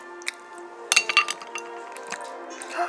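Glasses clink together in a toast during a small home party, a few sharp bright chimes close by, with light clatter around them and no talk.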